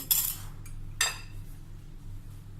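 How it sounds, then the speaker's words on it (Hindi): Eggs cracked and dropped into a bowl while making an eggless-oven walnut cake, giving two short clinking bursts of shell and bowl, near and fairly quiet over faint background hum, with no talking. "सबसे पहले बाउल में अंडे डालेंगे।"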